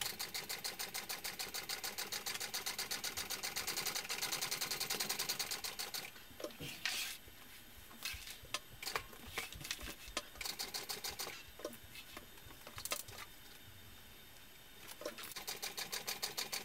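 A sewing machine stitches a seam on a small fabric backpack, running in a fast steady whir for about six seconds, then in short bursts with clicks and pauses as the fabric is shifted.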